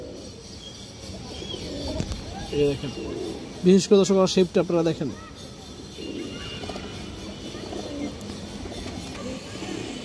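A pigeon coos in a short burst of low, throaty pulses, close by, with someone talking over and around it.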